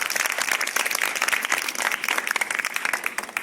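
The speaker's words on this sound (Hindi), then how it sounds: "जोरदार तालियों से इस्तकबाल कीजिए।" A school audience at a high school quiz programme bursts into dense, continuous applause, loud and close, many hands clapping steadily without a break for several seconds and no talking.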